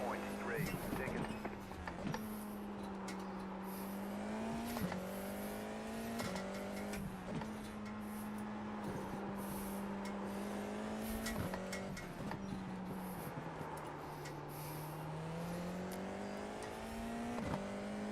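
A Formula 4 race car engine at Winton Motor Raceway drones steadily, its pitch climbing through gears and dipping on downshifts, heard continuously from onboard with faint radio chatter over it.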